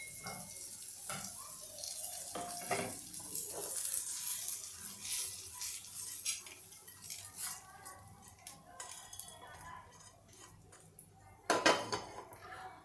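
Sautéed onion scraped from a pan onto a plate, with repeated metallic clatters of a spoon against cookware and dishes, some clinks and a faint background hiss, with brief talking in places.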